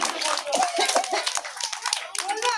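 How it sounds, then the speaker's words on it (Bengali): Audience applause for a child performer at a stage event, bursts of clapping mixed with children's chatter and a few small laughs, fairly close and lively throughout. "সবাই হাততালি দাও।"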